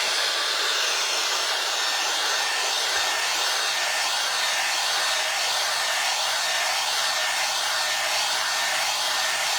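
A hair dryer blows steadily on a book being made over with a snowman design, a constant loud airy whoosh held close by with no pauses or voices.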